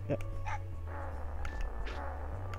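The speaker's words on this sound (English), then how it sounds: "I heard the dog." Dog barks from the Megaman Legends video game sound faintly under a steady low game hum, with a few short yips mixed into background effects.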